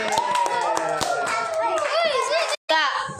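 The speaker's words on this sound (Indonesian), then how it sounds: "tepuk tangan untuk kelompok terakhir" A burst of applause from a group, brisk clapping throughout with children's voices chattering over it, cut briefly by a short silence.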